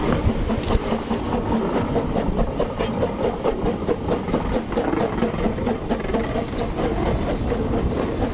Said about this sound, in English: Going home by steam just adds an extra dimension.